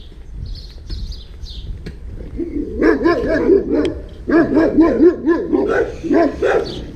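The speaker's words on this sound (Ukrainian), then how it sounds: "О, дивіться, дивіться, який собака." A dog barks repeatedly in quick bursts, fairly close, over a low background rumble, with faint bird chirps early on.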